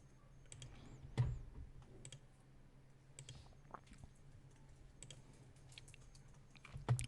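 Keyboard typing and mouse clicks while drafting in CAD software: a handful of sparse, quiet clicks and key taps spread across a low background hum, with one sharper tap standing out.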